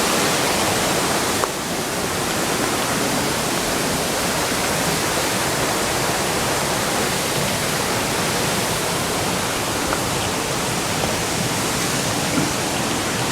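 Kawasan Falls roars as a steady, dense wash of rushing water, loud and continuous throughout with no voices over it.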